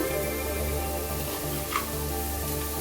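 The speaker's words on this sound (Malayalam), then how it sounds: "ഇഞ്ചി വെളുത്തുള്ളി പേസ്റ്റ് ഇതെല്ലാം ചേർത്ത് കൊടുത്ത് നന്നായിട്ടൊന്ന് ഇളക്കിയെടുക്കാം" Onion masala in a pan, with green chillies and ginger-garlic paste added, sizzles steadily and close while being stirred, with a faint clink partway through. No one speaks.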